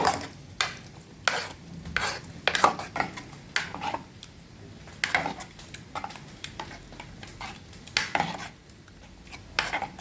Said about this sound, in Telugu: కల్లుప్పు వేసుకోవాలి గరిటతో కలుపుకోవాలి